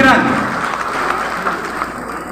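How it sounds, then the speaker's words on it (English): An audience applauds a farmers' group, clapping that starts loud and fades gradually, with a voice over the noise near the start. "Let's give them a round of applause, ladies and gentlemen."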